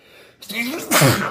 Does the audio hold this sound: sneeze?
yes